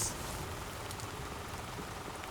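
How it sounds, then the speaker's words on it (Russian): Steady rain patters on a surface, a continuous soft hiss with scattered drop taps and no voices. "Только дождь никак не закончится."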